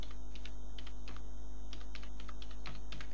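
Keys on a computer keyboard tapped in quick irregular bursts as a name is typed, faint and close over a steady low electrical hum, with no talking.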